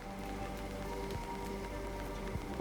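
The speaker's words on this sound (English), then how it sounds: "Uncontaminated rain. I like that." Rain falls steadily in the city-building game Endzone, a soft even patter with scattered drop ticks, under a low constant hum of game ambience.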